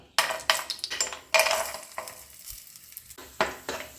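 Cashews and raisins sizzle in hot ghee for a banana cutlet, in close, moderately loud bursts with stirring scrapes in between and no talking.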